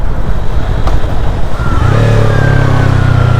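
A commuter-style motorcycle rumbles loudly at a steady pitch with wind noise. Partway through, the engine note climbs smoothly as the bike accelerates, and the higher tone holds to the end. No one speaks.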